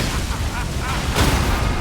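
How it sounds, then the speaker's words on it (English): An explosion in the video game God Run 3, Level 1 bursts loudly with a sudden boom partway through, over dense, continuous game noise. "Another explosion."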